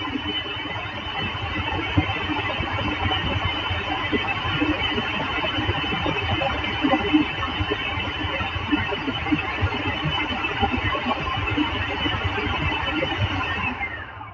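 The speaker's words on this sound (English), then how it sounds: "it's because they don't like the food processor" Food processor grinding a hummus dip, a steady loud whirring blend that runs unbroken from start to finish with no talk over it.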